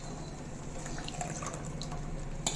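Thick tamarind water is poured into a cooking pot, a soft, steady liquid trickle and splash close by with a few small drips.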